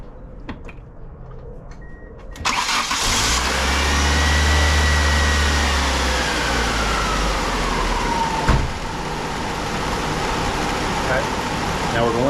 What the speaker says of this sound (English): I'm going to start the car. Let it run until the thermostat opens.